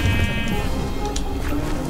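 A sheep in Minecraft Dungeons bleats close and clear, one wavering tonal call over faint game ambience.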